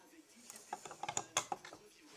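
A bolt is loosened on a Peugeot 102 moped engine, giving a brief run of faint, close metallic clicks and ticks against quiet background.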